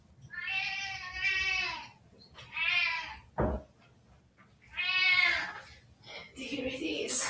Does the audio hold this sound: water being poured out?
no